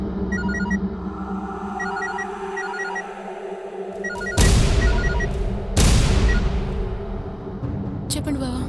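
A phone rings in short repeated electronic tones in a quiet domestic scene, then two sharp loud booming hits cut through, followed by a brief clatter near the end.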